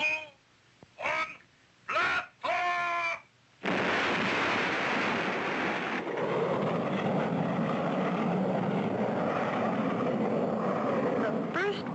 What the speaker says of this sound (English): You have 30 seconds before blasting off.